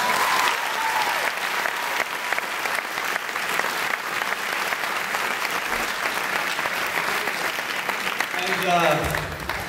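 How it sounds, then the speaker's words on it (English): Sustained applause from a school graduation audience honoring the custodians, a dense steady clapping that fills the whole stretch, with some voices faintly mixed in near the end. "I really think they deserve a round of applause"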